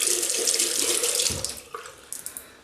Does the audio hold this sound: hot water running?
yes